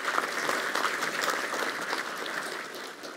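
Sustained audience applause at an academic year inauguration at Koszalin University of Technology, a dense, even wash of clapping from a large hall that holds steady and tapers slightly toward the end.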